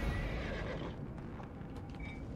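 A horse in the Neverwinter video game neighs loudly at the start, then its hooves clop steadily underneath as it carries its rider along, with no voice over the sound.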